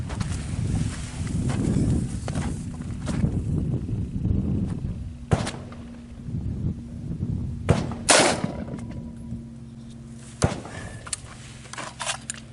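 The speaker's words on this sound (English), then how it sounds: "I'm gonna take one shot. Let's see what this round can do." A rifle fires one shot at an Armor Core fiberglass armor plate outdoors, a sharp loud crack among rustling and handling noises and several other brief bangs, with no talking.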